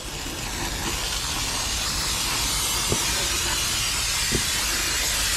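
A continuous, steady hiss of aerosol brake cleaner spraying runs throughout, close and loud, with a couple of faint knocks underneath.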